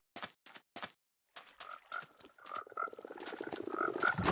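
Minecraft frogs in a mangrove swamp: a few sharp clicks first, then croaks that build into a dense, overlapping chorus of repeated ribbits, growing louder toward the end.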